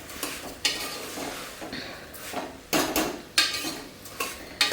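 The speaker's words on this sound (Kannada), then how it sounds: "ಇವಾಗ ಉಪ್ಪು ಹಾಕ್ಕೊಂಡಾದಮೇಲೆ ಒಂದ್ಸಲಿ ಮಿಕ್ಸ್ ಮಾಡ್ಕೊಬೇಕು." A food mixture with salt just added is stirred in a pan, producing repeated scraping and clinking strokes of a utensil against metal over a light sizzle, close and rhythmic without talk.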